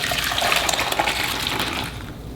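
Liquid poured from an Instant Pot cook pot into a saucepan, a steady loud gushing splash running throughout and tapering off at the end, no talk.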